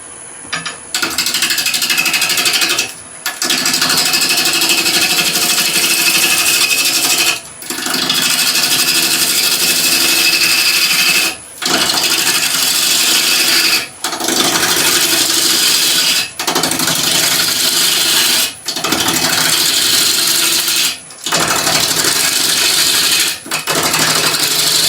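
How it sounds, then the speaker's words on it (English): Wood lathe being roughed down with a half-inch bowl gouge while turning a hollow form, a loud, continuous grinding scrape broken by brief pauses every few seconds, with no talking. "I'm going to start with a 1/2 inch or 12mm bowl gouge"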